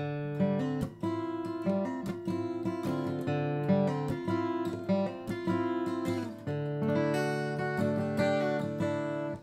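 A solo acoustic guitar plays the intro of a song, bright picked notes ringing over steady bass tones, close and clear with no voice.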